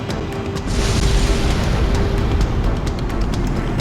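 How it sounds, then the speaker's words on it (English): A cannon fires in the Ace Combat X flight combat game, a sudden loud, deep explosion that swells in and rumbles on steadily to the end with no voice over it. "Cannon firing!"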